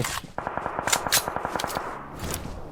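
Rapid automatic gunfire in a video game shoots out a vehicle's tire, a loud, close, evenly spaced burst of shots that runs almost the whole time before easing off.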